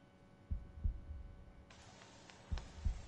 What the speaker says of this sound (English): Can hear Ethan's heartbeat.